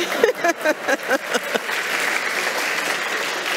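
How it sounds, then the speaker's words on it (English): An audience bursts into applause at a talk, a dense crowd of clapping hands that starts under a brief stretch of voices and then carries on alone, loud and sustained. "Okay, we can clap for that."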